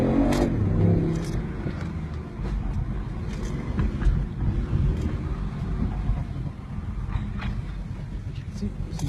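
A BMW i8 with a 1.3 supercharged engine roars as it drives, a loud, continuous low rumble that swells slightly at the start, with a voice heard over it.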